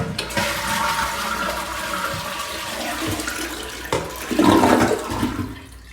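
A toilet flushes with a rush of draining water, followed by the gurgle and hiss of the tank refilling, close by and without talking.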